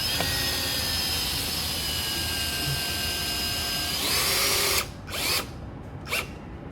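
Power drill driving a screw into the center hole of a window air-conditioner support bracket, a steady high whine running for about five seconds before stopping, then two short bursts close by.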